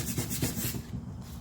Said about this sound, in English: go over it with a little bit of sandpaper